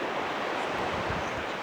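Ocean surf rolling and breaking on the granite coast of Brittany at Ploumanac'h, a steady broadband wash with some wind noise on the microphone and no talk over it.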